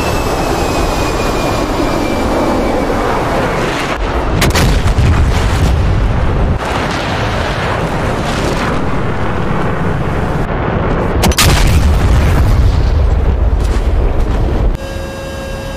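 Bombs exploding during A-10 Warthog attacks in a Dien Bien Phu war game, loud deep booming blasts and rumbling impacts layered over a constant roar of jet engine noise, with sharp cracks at several points.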